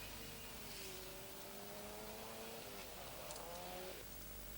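A rally car engine whines past at high revs on a 1988 1000 Lakes Rally stage, pitch sliding as it passes at a distance, heard through a constant hiss.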